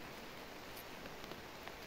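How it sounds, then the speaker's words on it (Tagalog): Heavy rain pouring outdoors along a path being cleared, a constant hiss of drops on foliage and ground with scattered sharper patters, alone and fairly soft. "maulan na dito"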